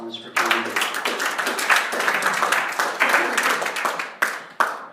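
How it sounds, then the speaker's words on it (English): An audience bursts into applause for a guest named Kenneth at a live storytelling event, dense steady clapping from many hands that swells, holds and then tapers into a few scattered claps, with voices mixed in. "Give another round of applause for Kenneth"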